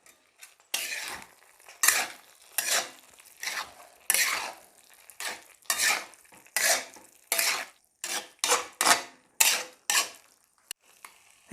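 Chicken pieces are mixed with masala in a bowl, a series of wet squelching, scraping strokes in an irregular rhythm, close and fairly loud, without voices.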